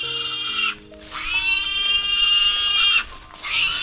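Pigs caught behind a house squeal in long, loud, shrill bursts, three drawn-out cries separated by brief pauses, close by with faint background noise.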